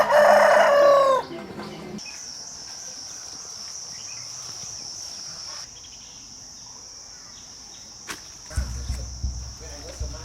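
Village ambience in Nong Khiaw, Laos, with a rooster crowing at the start, then a steady high insect drone, distant chicken clucking and faint background activity.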